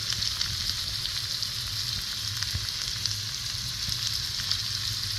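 Chopped tomato fries in a pan for a dried stingray curry, giving a steady, close frying hiss with a low rumble underneath and faint stirring ticks throughout.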